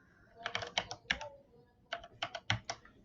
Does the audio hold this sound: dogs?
no